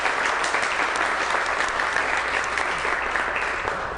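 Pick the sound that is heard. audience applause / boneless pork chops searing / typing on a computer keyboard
audience applause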